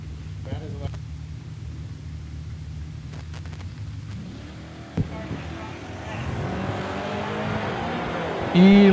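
A C10 truck at a drag race is heard from a distance, a low engine rumble building gradually under crowd and track noise, with a sharp bang near the middle and louder roaring toward the end.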